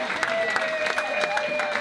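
A crowd at a cancer fundraising gathering applauds in a brisk, continuous patter, with voices talking over the clapping.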